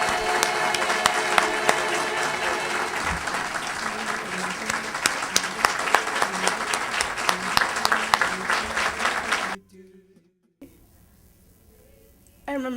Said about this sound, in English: I want to have everybody give them a big round of applause